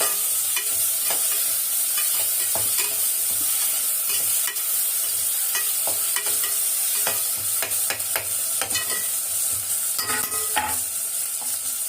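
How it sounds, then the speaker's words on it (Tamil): Onion and tomato sautéing for chicken biryani, a steady loud sizzle with frequent scraping stir strokes throughout, no voices. "கொஞ்சம் நல்லா வெங்காயம் தக்காளி வதங்கட்டும்."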